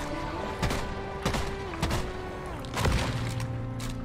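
A revolver fires in the Deep Rock Galactic game: several sharp, separate shots spaced about a second apart over a low, steady game background.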